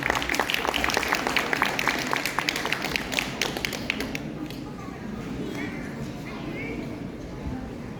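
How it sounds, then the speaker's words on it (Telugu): An audience claps at a certificate ceremony after a performance. Dense, lively clapping fills the first four seconds, then thins into quieter room noise with scattered voices. "please give a great applause"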